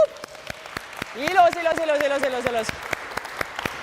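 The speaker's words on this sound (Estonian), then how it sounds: "teed endale suure aplausi" A workout class finishing a mobility training session gives itself a round of scattered claps, sharp spaced hits heard under an instructor's voice talking over them.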